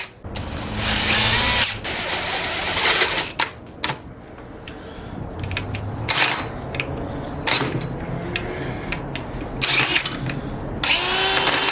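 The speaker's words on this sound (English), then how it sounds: "Now we're gonna drill a pilot hole." A power drill whirs in long bursts drilling a pilot hole, stopping and starting repeatedly, with intermittent clicks and clatter between runs; no talking.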